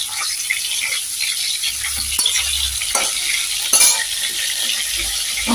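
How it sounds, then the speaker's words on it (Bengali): Fish frying in a pan gives a loud, close, continuous hissing sizzle, with a few light clinks and scrapes of a utensil over it and no voices. "এদিকে মাছটা আমার ভাজা হয়ে এসেছে"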